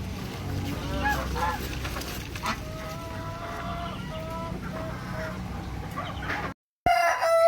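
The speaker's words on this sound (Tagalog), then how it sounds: "ang ingay ng manok ha" Chickens cluck and squawk continuously nearby while a rooster crows with repeated drawn-out calls, a busy barnyard din that cuts off briefly near the end.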